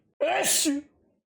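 A single close sneeze bursts out with a sharp breathy onset and a voiced tail, then quiet follows.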